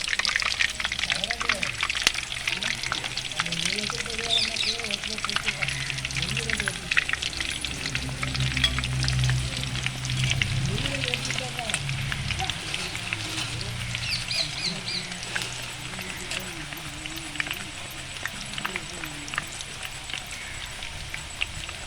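Sliced nendran raw banana chips frying in hot oil, a dense continuous sizzle and crackle with occasional stirring, close and steady, while a voice talks over it.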